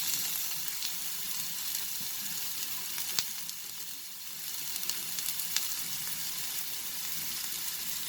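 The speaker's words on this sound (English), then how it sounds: "So after you add the recipe, put the flame high and then just saute it." Capsicum, cabbage and corn sauté over a high flame for vegetable fried rice, giving a steady, close sizzle with occasional clacks of stirring against the pan.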